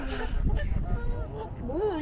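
A white goose honks nearby in Cannon Hill Park, Birmingham, a short nasal call rising and falling near the end, over murmuring voices and outdoor background noise.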